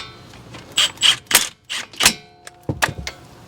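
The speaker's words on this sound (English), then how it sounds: "Now we're just gonna snug this with the impact real quick." An impact wrench snugs a caliper slide pin bolt during a front brake pad and rotor job on a Mazda CX-9, firing several short, sharp rattling bursts up close with brief pauses between them.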